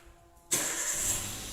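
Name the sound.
car engine starting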